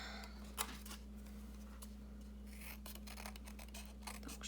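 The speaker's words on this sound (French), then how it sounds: "Je découpe mon bâtonnet." Scissors cut through a paper stick during birthday card crafting, giving a few short, quiet snips and rasps over a steady low hum. No one speaks.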